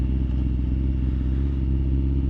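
A sport motorcycle riding over a clay surface, its engine a steady, loud, close drone humming without pause for the whole stretch.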